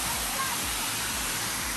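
Lazarevskoye waterfall in the mountains pouring in a steady, dense rush of falling water, close and even throughout with no breaks.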